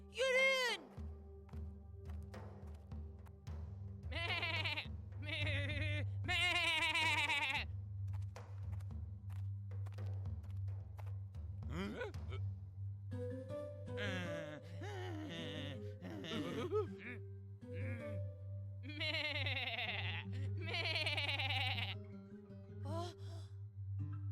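A goat bleats repeatedly in a video game, with several long, wavering cries spread over a steady low background hum; the calls are loud and close, with occasional gasping sounds between them.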